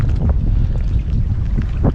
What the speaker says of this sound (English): I don't know if this wind is gonna let up